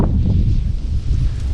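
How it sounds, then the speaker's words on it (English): Strong wind buffets the microphone while fishing outdoors, a constant low rumbling roar with rustling on top, loud and unbroken. "We done got us a nice little crappie on this windy day"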